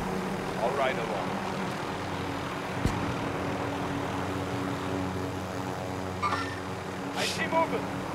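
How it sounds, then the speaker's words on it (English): Helicopter in the Call of Duty: Modern Warfare video game, a steady low engine drone under game noise, with brief higher whooshes and a sharp impact partway through, while players talk over it. "I'm getting the chopper"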